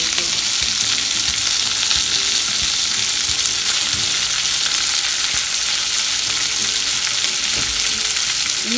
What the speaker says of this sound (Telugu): ఇవి ఇలాగా తిప్పుతూ ఫ్రై చేస్తూ ఉండాలండి.